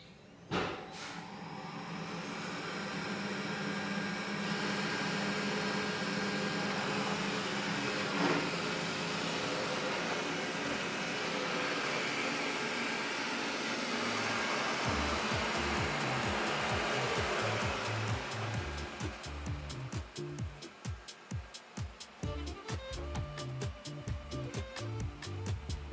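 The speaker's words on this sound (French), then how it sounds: "Ok Google, aspirer maison." A robot vacuum cleaner starts by voice command and runs indoors at home with a loud, steady motor whir. Later it shifts to a rougher, pulsing brushing rhythm as it moves across the floor.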